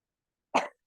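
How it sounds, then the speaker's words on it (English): A single short cough, close and fairly quiet, in an otherwise silent kitchen setting during a pumpkin bundt baking class. "Oh no, the coughing's begun."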